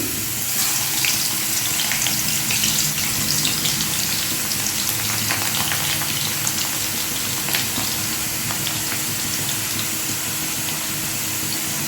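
Chopped garlic fried in a pan for egg tadka gives a steady, close hissing sizzle with scattered crackles, unbroken for several seconds with no voices.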